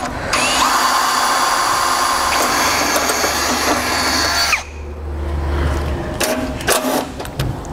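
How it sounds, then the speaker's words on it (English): A power drill bores a hole with a drill bit, whining steadily at close range for several seconds, then stops, followed by a few light clicks and handling noises. "I'm going to drill out the hole first with a drill bit"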